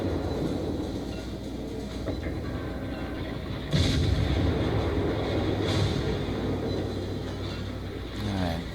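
Destroyer main guns fire in the naval battle game World of Warships, a few heavy booms over a constant loud rumble of engine and sea noise, with one strong blast near the middle.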